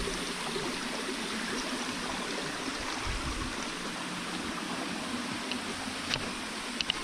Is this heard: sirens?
no